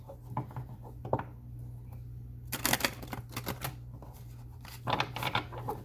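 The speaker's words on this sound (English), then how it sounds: "One more shuffle." Papery riffling and tapping as cards are shuffled in several short bursts, close by, with quiet pauses between them.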